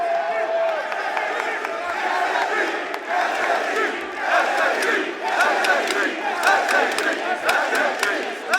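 Large arena crowd at a FaZe Clan versus LOS esports semifinal at the Atlanta Major roars and cheers continuously, a dense, loud wall of voices with shouts and whoops rising and falling throughout.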